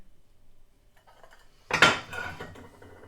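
Heavy, thick ceramic Aldi dinner plates from a 12-piece set clatter as they are handled, a sudden loud clunk of stoneware followed by a ringing, fading rattle after quiet handling sounds.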